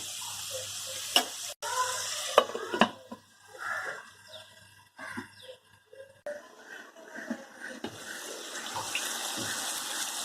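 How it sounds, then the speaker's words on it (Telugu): Tomatoes with a little salt simmer in a pan on a medium flame for a ridge gourd curry, giving a steady close hiss and sizzle with a few sharp clinks and brief faint voices. "మీడియం ఫ్లేమ్లో పెట్టుకొని కాసేపు మగ్గనిద్దాం టమాటాలని"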